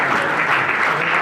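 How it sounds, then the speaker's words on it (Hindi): A rally crowd breaks into loud, sustained applause, dense and even clapping throughout with no pauses. "ऐसे नहीं, जोरदार तालियां।"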